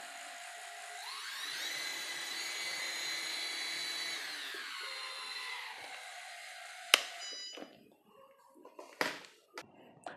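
An armed S550 hexacopter drone on a Pixhawk 2.4.8 flight controller spins up its motors to a steady, rising electric whine that holds for several seconds and then cuts off, followed by sharp clicks and handling knocks.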